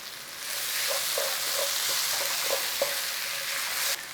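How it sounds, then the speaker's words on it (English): Garlic frying in a hot pan, a continuous hissing sizzle with soft repeated scraping strokes as it is stirred, close by and with no talk, before the sizzle drops away at the end. "in with all that garlic. Give it a little 30 seconds, we'll stir it in."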